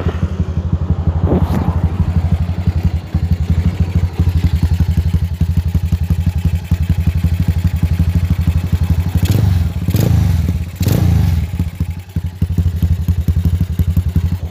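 A custom Bajaj Pulsar flat track motorcycle with a basic, makeshift exhaust idles loudly and steadily nearby, its engine throbbing with a couple of short revs toward the end.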